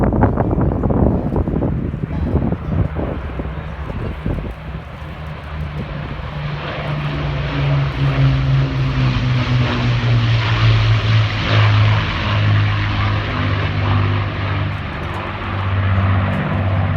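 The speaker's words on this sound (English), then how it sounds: "That beautiful sound of the Rolls-Royce Merlin engines." Rolls-Royce Merlin engines of Battle of Britain Memorial Flight aircraft pass at an air show, a loud sustained propeller drone that rises and falls slightly with wind buffeting the microphone and no voices heard.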